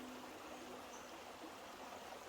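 A creek near an old mill foundation at the Wilson Creek battlefield flows with a steady, soft rushing and trickling of water, faint and continuous with no voices.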